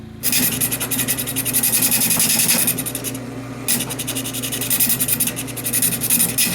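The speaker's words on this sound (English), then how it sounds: "So you can see we're slowly just knocking the bark off and trying to get this thing round." Wood lathe turning down a rough log for a mine cart wheel, a steady scraping, rasping rumble as the tool knocks off bark, loud and continuous with a brief dip midway.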